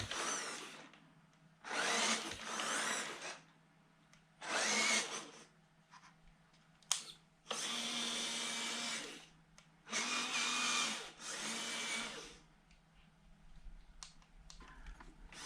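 An FMS Suzuki Jimny 1/12-scale RC micro truck with full-metal gears and drive shafts drives in short bursts, its tiny motor and gearing whining up and down in several separate runs with quiet pauses between.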